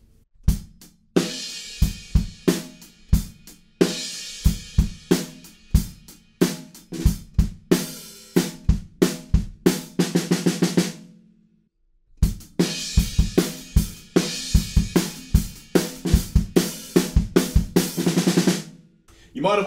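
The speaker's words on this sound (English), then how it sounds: "To the next four bars, we add some crashes on beat two, so that will sound like this." Drum kit playing a groove from a song, with crash cymbals landing on beat two over steady kick and snare, snare fills, a brief pause near the middle, then the groove resumes, loud and close.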